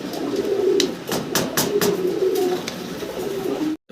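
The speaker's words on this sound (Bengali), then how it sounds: "ভিডিও স্ক্রিনে দর্শক আমরা আরও এক জোড়া শৌখিন কবুতর দেখতেছি এখানে" Pigeons at a pigeon farm cooing close by in soft, repeated throaty calls over a few seconds, with faint background rustle and no talk.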